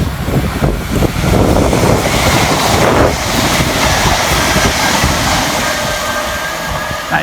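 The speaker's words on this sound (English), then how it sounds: "Next, passing through the station under the head code 1 Foxtrot 18 for Greater Anglia." A Greater Anglia train heading from London Liverpool Street to Braintree on the Great Eastern Main Line rushes through a station, a loud, steady rolling roar with wind buffeting the microphone throughout.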